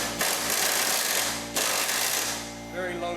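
Ingersoll Rand 1/4-inch impact wrench driving 14mm radiator support bolts on a 2002 Hyundai Sonata. It gives two long, loud, close rattling bursts with a brief pause between them, then winds down.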